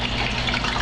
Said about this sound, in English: Look at them fry.